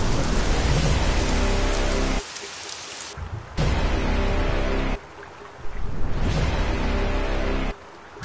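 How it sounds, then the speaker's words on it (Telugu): Heavy rain pours down steadily as broadband hiss, loud and close, cutting in and out in sections with brief quieter gaps between bursts; no talk over it. "వర్షం బాగా పడుతుంది"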